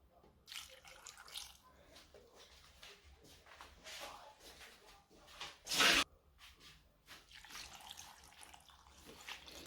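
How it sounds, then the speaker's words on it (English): Water is poured into a cooking pot of potatoes on the stove. The splash and trickle are quiet, with a short louder gush midway, amid soft shuffling and kitchen handling noises. "Now I'm going to put them on fire and then add some little bit of water."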